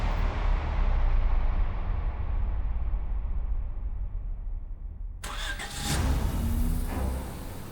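A car engine cranks and catches, settling into a low rumbling run, with a rising whine and rattle near the end.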